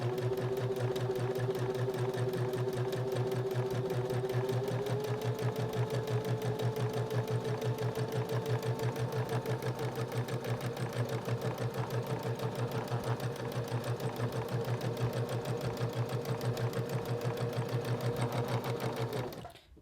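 A sewing machine runs a steady, continuous top stitch along a narrow seam on a luggage tag holder, its rapid needle rhythm holding an even pace up close from start to finish, with no talking.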